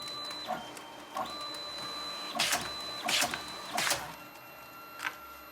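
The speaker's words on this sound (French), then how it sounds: "Elle va nous sortir 4 photos vides, blanches, et les découper." A photo printer in a selfie booth hums with a steady high whine, broken by several loud mechanical whirring bursts as blank photo paper feeds and is cut into three photos, fairly quiet overall.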